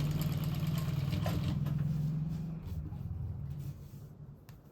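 A sewing machine runs along the edge of a sleeveless blouse, its low motor drone steady at first, then easing off and fading toward the end.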